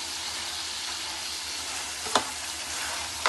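Onions fry with meat in a pot, giving a steady, close hiss of sizzling oil throughout, broken by a couple of brief scraping clicks from stirring.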